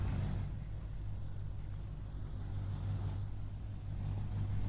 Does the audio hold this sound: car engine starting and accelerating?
yes